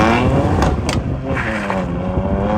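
A 2021 BMW M2 Competition engine revving hard and accelerating from launch, loud and close, with rising engine tone and brief gear-change breaks.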